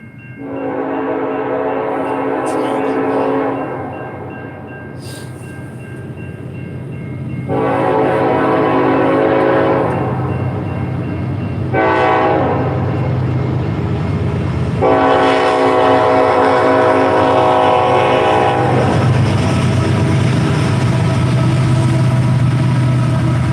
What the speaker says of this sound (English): Passing through the intersection, they blow their horn